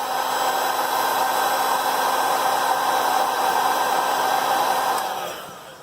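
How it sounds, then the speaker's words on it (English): A heat gun blows hot air in a steady, loud whooshing hum with a faint tonal whine while softening the back camera glass on an iPhone 8 or 7, then shuts off and fades near the end. "So use some more heat gun if it needs to be."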